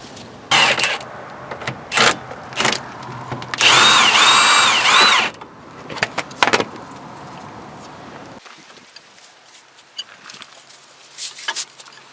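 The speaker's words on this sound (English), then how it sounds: "we'll hit that with an impact. So 18 millimeter." An impact wrench rattles in short bursts, then one longer sustained run, on an 18 mm nut at the front hub of a 2001 Pontiac Grand Am. Clanks and shop noises follow, close and loud.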